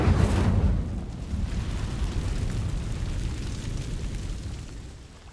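Incendio fire spell cast in the video game Hogwarts Legacy: a sudden loud burst at the start, then a sustained roaring, rumbling rush of flame that slowly fades.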